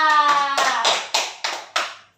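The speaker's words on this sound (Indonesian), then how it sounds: "Tepuk tangan kita." Students in a classroom clap together after a brief burst of voices, making about five loud, close, evenly spaced group claps in a steady rhythm that stop abruptly.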